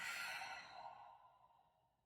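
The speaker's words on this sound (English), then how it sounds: "Deep breath in. Open mouth, exhale." A long open-mouth exhale during a yoga flow, one soft breathy whoosh that starts fairly strong and fades steadily over about two seconds, close and quiet.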